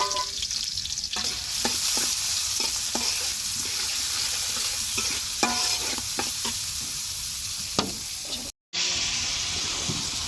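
Chopped onion and plenty of garlic frying in oil for tempering, a steady sizzle with frequent rhythmic stirring scrapes, briefly cut to silence near the end.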